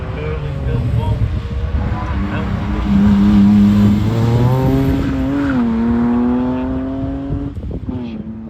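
A GTE race car roars past on a Harewood hillclimb run, its engine note rising and shifting through gears as it passes near, with a commentator talking over the sound.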